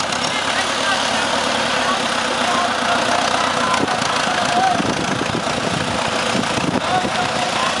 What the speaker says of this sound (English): All on a little old tractor, look at that.